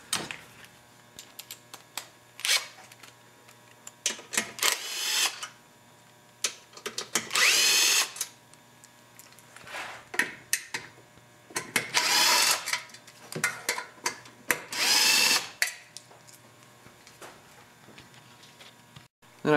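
A power tool removes the cooling shroud bolts on a Briggs & Stratton single-cylinder L-head engine: several short, loud whirring bursts separated by quiet gaps and small clicks of handling.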